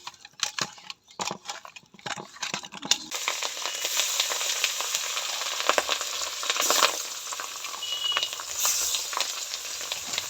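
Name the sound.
pabda fish frying in mustard oil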